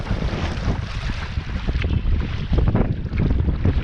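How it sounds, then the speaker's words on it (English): Strong wind sweeps the length of Loch Treig in the Scottish Highlands, whipping up big swells: a steady, loud, gusty roar with buffeting on the microphone and rough water churning close by, no voices. "the wind is blowing the length of this loch just now"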